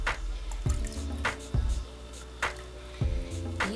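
Fragrance oil poured into soap containers for pineapple cilantro cold process soap, giving several short wet splashes and drips at irregular intervals, close and fairly quiet.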